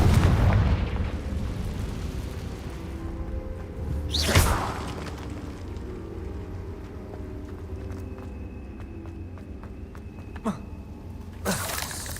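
Fiery Confringo spell blasts erupt during a fight in the Hogwarts Legacy video game, a loud whooshing boom near the middle and another toward the end over low rumbling ambience, with fainter crackles between.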